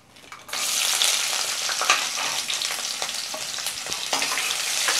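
Shallots and dried red chillies sautéing in hot oil in a pan for a Chettinad egg kuzhambu, with a steady close sizzle and frying crackle that starts abruptly and continues alone, with occasional stirring scrapes.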